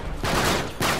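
Two sharp, heavy gunshot blasts from sniper fire in Uncharted 3, a loud crack with a lingering tail followed by a second shot just under a second later.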